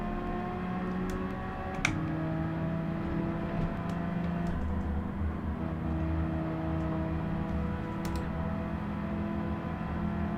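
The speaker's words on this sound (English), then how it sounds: "Feels like there's a sound bug. My car's very muffled." Muffled, steady engine drone of a Group 4 race car in Gran Turismo 7 on Grand Valley Highway 1, dulled by a sound bug, with a few faint clicks over the continuous hum.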